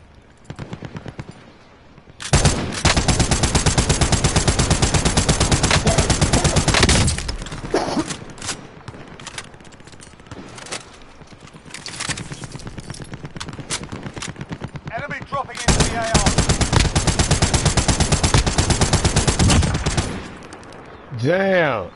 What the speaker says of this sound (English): 152 meters long shot with the LMG